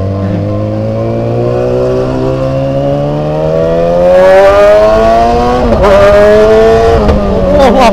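A Yamaha YZF-R6 sport motorcycle engine revs loud and close, its pitch climbing steadily through the gears in a long smooth sweep before a few sharp blips near the end.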